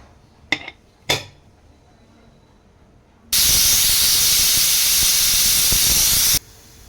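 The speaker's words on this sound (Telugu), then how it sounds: "కుక్కర్ పైన మూత పెట్టేసి వన్ విజిల్ వచ్చే వరకు పప్పుని ఉడికించుకోవాలి" After two sharp metallic clinks, a pressure cooker whistle lets out a loud, steady hissing blast of steam for about three seconds, then stops abruptly, while cooking lentils with tomato.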